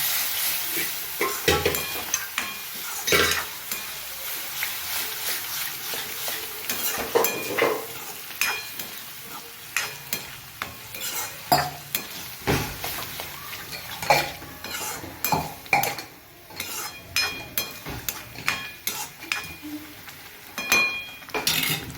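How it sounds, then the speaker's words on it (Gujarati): A spoon scrapes and clatters repeatedly against a pan while peas and other food sizzle steadily underneath, the stirring irregular and close. "એના અંદર થોડા વટાણા નાખીએ, સરસ બધું મિક્સ કરી લઈએ."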